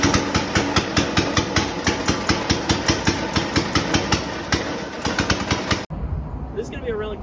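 A 1942 Harley-Davidson WLC motorcycle engine runs nearby with a loud, steady, loping thump. It cuts off abruptly near the end, and a voice follows briefly in the quiet.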